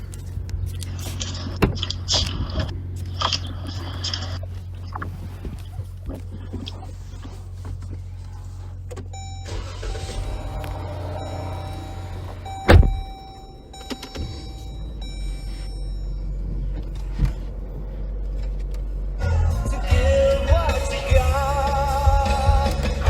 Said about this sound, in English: It was getting into a car, starting the engine, and the radio playing.